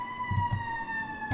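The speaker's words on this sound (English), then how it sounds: "The ambulance!" An ambulance siren holds a steady wailing tone, with faint low thumps underneath, lasting just over a second.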